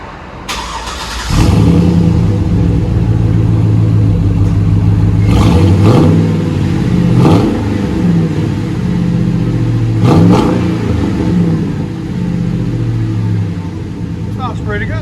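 A 2005 GMC Sierra Denali with a 6.0L engine and a true dual Magnaflow exhaust starts up and idles loud and close, then throttle blips push several rising revs that fall back to a deep rumble.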